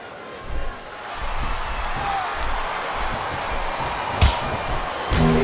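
Arena crowd noise from SmackDown vs Raw 2007, a Bobby Lashley versus Chris Benoit wrestling match, forms a steady broad roar throughout, with a couple of sharp impact-like thuds near the end.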